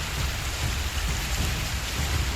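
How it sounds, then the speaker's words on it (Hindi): Heavy monsoon rain pours in Chennai during a November deluge that floods the city, a dense, steady roar of rainfall with a low rumbling undertone, continuous and enveloping. "नवंबर में मानसून से प्रचंड बारिश का ऐसा प्रहार हुआ कि स्कूल, कॉलेज, मकान, दुकान सब जलमग्न है।"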